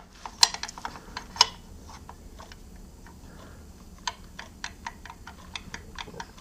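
Loose foundry moulding box parts knock together with slight slop, giving a series of sharp, light clicks and taps at irregular intervals, close and fairly quiet, with no talk.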